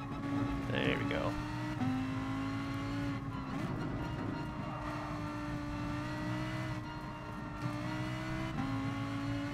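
A race car engine in Gran Turismo Sport on PS4 drones and shifts pitch as it revs and changes gear, steady and prominent throughout, with people talking over it.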